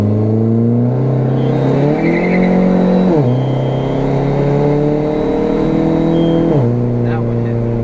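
A modified Chrysler PT Cruiser GT with a second-generation intake manifold accelerates hard in second gear. Its engine note climbs loud and steady and drops briefly at gear changes, recorded from inside the car.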